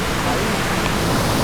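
Mandale waterfall gives off a broad, constant roar of rushing water that stays loud and unbroken through the short stretch.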